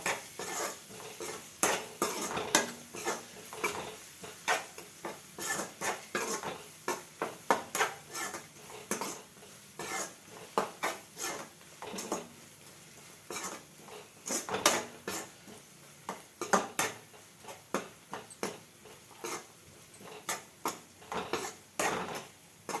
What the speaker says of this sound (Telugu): అల్లం పచ్చివాసన పోయే వరకు ఆయిల్లో కొంచెం వేపుకుందాం.